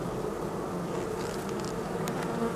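Honey bees on a thinly stocked hive frame produce a steady close buzzing hum, with a few brief higher whines from individual bees passing near, and no voices.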